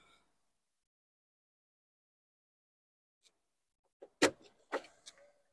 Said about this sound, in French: On va commencer donc directement avec le coffre. Je peux ouvrir, ça dérange pas?